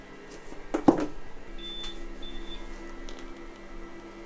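A home-lab UPS beeps during a power failure, giving a couple of thin electronic tones over a steady fan and mains hum, with a brief louder clunk near the start.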